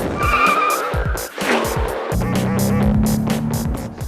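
A Mercedes-Benz CL65 AMG drives past loudly, its engine note shifting as it revs and changes pitch, with a brief lull before a steady, strong drone builds and holds to the end; no voices.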